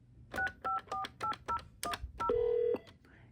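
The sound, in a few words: intercom phone system dialing DTMF tones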